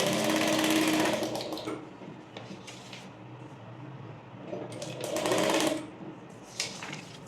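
A sewing machine stitches fabric during tailoring practice, running in loud, close bursts with quieter pauses between them.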